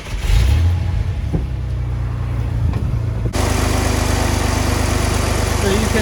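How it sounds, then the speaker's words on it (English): A 1994 Ford pickup's 4.9-litre 300 inline-six cranks and rumbles, then settles into a steady, loud idle that drones on evenly. "then go ahead and start the truck and see where we're at"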